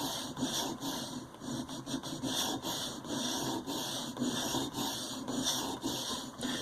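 A wood carving tool is rubbed back and forth on a sharpening stone in quick, repeated strokes, each a soft, close scraping rasp, in an otherwise quiet room.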